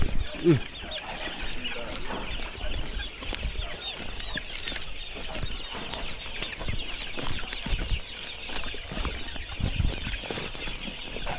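Farm chickens clucking and flapping their wings at dawn, busy agitated cackles and wingbeats scattered throughout at close range, with faint background activity.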